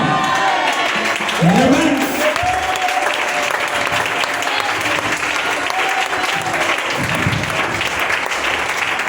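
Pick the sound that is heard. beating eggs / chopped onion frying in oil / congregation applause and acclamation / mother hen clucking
congregation applause and acclamation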